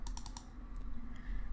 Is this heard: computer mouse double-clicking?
yes